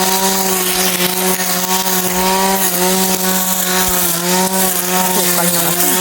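A grass cutter clears overgrown weeds around dragon fruit plants, its engine holding a loud, steady whining drone close by for the whole stretch, with slight dips as the blade bites into the growth.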